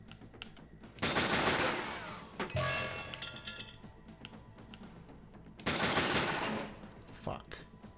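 Gunfire rattles at turrets in the SteamWorld Heist video game: two loud sustained bursts of shots with clinking, ringing impacts in between, over quiet game background.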